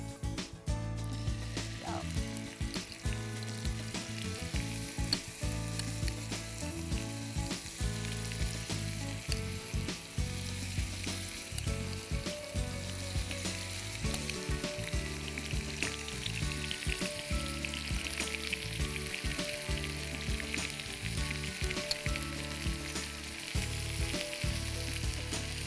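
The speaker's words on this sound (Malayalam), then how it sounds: "എണ്ണ ചൂടായിട്ടുണ്ട്. ഇതിലേക്ക് നമുക്ക് ചിക്കൻ ഓരോന്നായി ഇട്ട് കൊടുക്കാം." Chicken pieces sizzle and crackle in hot oil for a Kerala-style pasta masala dish, a loud, steady frying hiss that carries on without pause, with occasional clinks and scrapes from the pan.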